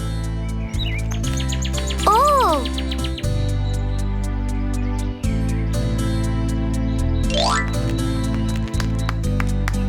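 A few short, high bird chirps and trills over a steady musical background, the calls brief and separated by several seconds.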